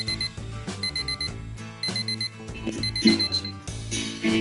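An alarm clock rings in a repeating electronic beeping pattern, loud and close, with short bursts separated by brief pauses.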